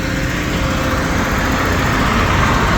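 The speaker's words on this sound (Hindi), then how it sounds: "तीसरा ट्रैक्टर ट्राली लेकर भी आ गया है क्रेन के बिल्कुल नज़दीक।" A tractor hauling a trolley pulls up close to a crane at a site where old walls are being demolished and soil is being loaded; a steady, loud engine drone runs continuously without pause.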